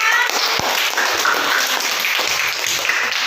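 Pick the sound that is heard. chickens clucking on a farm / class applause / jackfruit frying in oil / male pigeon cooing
class applause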